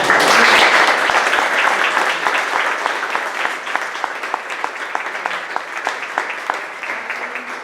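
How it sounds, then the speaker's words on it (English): An audience at an artist talk and reception for a mosaic project breaks into applause. It starts as a dense, full burst, then thins into scattered individual claps, fairly close throughout. "can we have another round of applause?"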